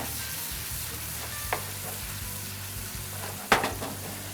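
Shrimp cooking in butter in a pan for garlic shrimp, a steady quiet sizzle with a couple of brief utensil clinks, no talking.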